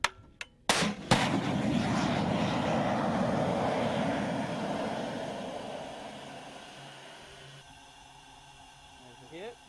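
Artillery firing in the Russo-Ukrainian war: a couple of sharp, loud blasts at the start give way to a long rumbling roar that slowly fades, with shouting voices around it.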